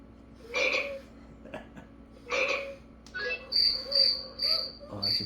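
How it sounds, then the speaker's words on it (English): A Hahaland animal caller toy plays a cricket sound: a series of sharp, high, electronic chirps in bursts, fairly loud and close, with short gaps between them and no talking. "Oh, that's a cricket."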